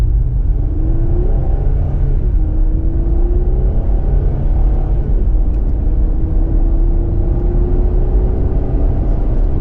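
A 2024 Jeep Gladiator Willys 4x4 with a 3.6-liter engine accelerating on the road, a loud, steady cabin rumble with a rising engine whir climbing through the gears, continuous and close, with no talk.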